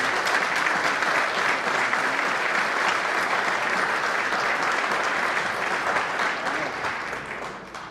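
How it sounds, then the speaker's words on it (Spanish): Sustained applause from the audience at a legislative session in Chihuahua, steady and dense for several seconds before tapering slightly at the end, with no voices over it. "solicito un aplauso"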